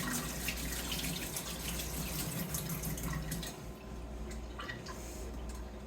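Hands being rinsed under a running kitchen tap: a steady, close rush of water that stays even throughout, with no talking.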